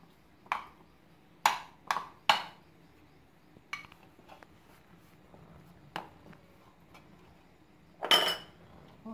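A spoon clinks against a bowl while mixing a dough spiced with salt and cumin for potato and onion bread, several sharp separate metallic taps spread out over quiet background.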